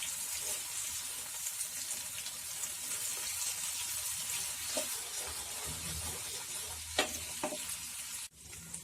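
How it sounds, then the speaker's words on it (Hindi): Mutton chops fry on a high flame and are turned in the pan, giving a steady, soft sizzle broken by occasional scrapes and clinks of a utensil. "ऐसे ही टर्न करते हुए इन्हें फ्राई करते जाइए।"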